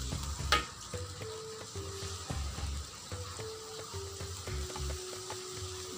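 Okra coated in flour sizzles steadily in a frying pan for a stir-fry with minced chicken, a faint, continuous crackle with soft clinks and no talk.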